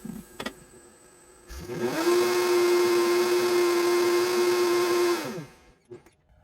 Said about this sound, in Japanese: このバイタミックスの、ミキサーはすごく便利で、粉にするには最適です。